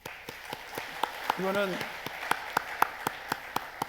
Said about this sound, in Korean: 우리 찬양대 격려의 박수 한번 해봅시다